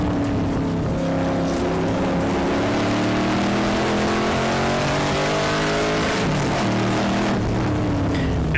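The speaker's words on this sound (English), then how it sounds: "Car 72 is looking to get by Fakile driving the 774 Cobra" Cobra race cars roaring past at Dezzi Raceway during a four-hour endurance race, several engines droning and shifting pitch together, loud and continuous with no voices.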